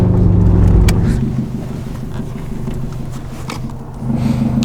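Subaru WRX 2010 GR hatchback with a 3-inch straight pipe exhaust, loud low engine rumble with an idle that swells and settles, sharp pops and backfire cracks scattered through it, close by with no talk.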